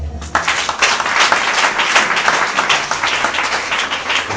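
A church congregation bursts into sustained applause for the Lord during a French-language service, a dense, steady wash of many hands clapping close by with no voices over it.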